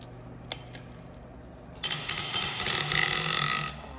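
Cylinder head bolts on an engine are loosened with a ratchet: after a couple of isolated clicks, a close, rapid run of ratcheting clicks and creaks builds and then stops.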